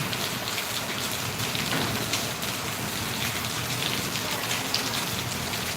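Heavy rain in Valliyur pours down in a steady, dense hiss of drops on surfaces, constant and close throughout, with no voices.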